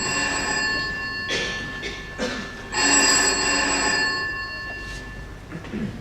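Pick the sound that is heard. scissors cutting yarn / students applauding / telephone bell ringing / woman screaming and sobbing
telephone bell ringing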